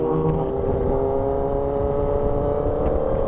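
A motorized tricycle engine drones steadily at close range with a low, rough rumble, holding constant as the tricycle passes.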